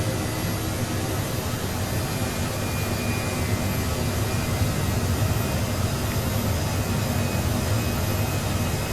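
Mi-8 helicopter engine spooling up in a flight simulator game, heard as a steady, loud, broadband turbine roar and hum that stays constant throughout.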